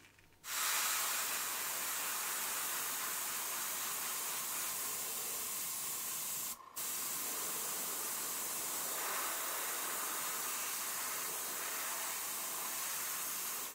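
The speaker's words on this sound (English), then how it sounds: "I'm gonna give those a light spray too" Spray paint hisses onto the wheels of a 1:64 scale El Camino model car, a steady, close, broadband spray that runs nearly unbroken, with one brief stop midway.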